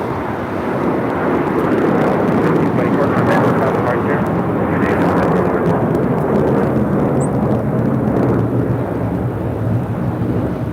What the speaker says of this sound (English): taking off to JFK with JetBlue Airways 1524, 5-year-old A321